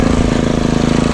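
A grass cutter engine chews through tall, thick grass reaching chest height on a farm, a loud close steady droning motor with a fast pulsing rhythm and no pauses.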